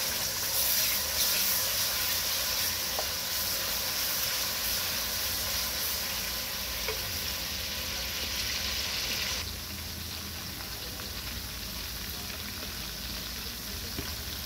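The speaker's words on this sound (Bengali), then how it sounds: "তেল গরম হয়ে গেছে, রসুন দিলাম" Garlic fries in hot oil for a beef and kabocha squash curry, a steady close sizzle and hiss that eases to a slightly quieter crackle partway through.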